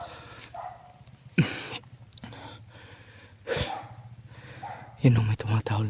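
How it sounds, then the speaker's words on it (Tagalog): A dog barks a few times in the distance, short sharp yelps spaced apart over a steady low hum, with a voice talking in Filipino in between. "Yun may tumatahol na aso tol."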